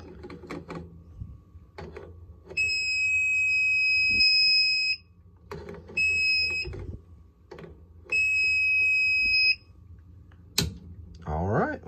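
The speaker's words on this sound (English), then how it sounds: "The instruction said may make a few beeps as it's" Three long, high-pitched electronic beeps from a circuit breaker finder receiver sound at intervals, with soft clicks and handling noises between them.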